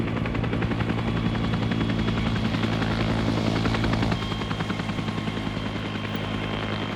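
Helicopters in a military strategy video game drop troops, a loud, steady rotor chop and engine drone filling the scene, easing slightly in the last few seconds.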